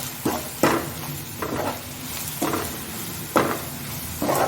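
A masala mixture for masala idli is stirred in a hot pan, with rhythmic spatula strokes scraping roughly once a second over a continuous low sizzle, close and fairly loud.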